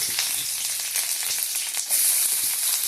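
Chana dal, cinnamon, cloves, curry leaves and dried chillies frying in about two spoons of hot oil with mustard seeds, giving a steady, close, crackling sizzle throughout with no voices.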